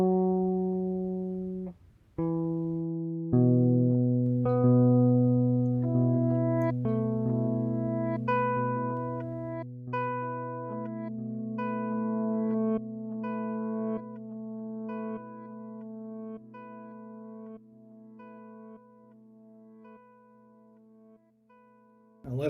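An instrument played through an Empress ZOIA pedal running a four-channel interwoven loop-delay patch: sustained, layered tones with repeating echoes stacking and overlapping steadily for the whole stretch, loud and clear with no talking.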